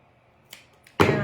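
Scissors snipping through a denim strip for a rolled rosette necklace: a light crunching cut, then a louder, sustained close-up cut near the end, with no talking.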